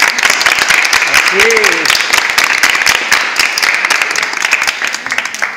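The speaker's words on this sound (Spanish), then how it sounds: "Un aplauso, ¿no?" An audience at a Rubik's cube solving event claps in a quick, dense burst that runs through the whole moment, while a voice talks over it.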